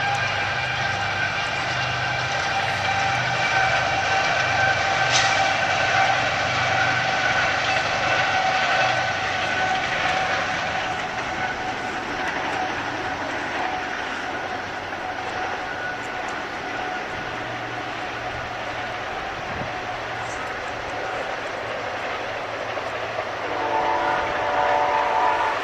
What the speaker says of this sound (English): Union Pacific train.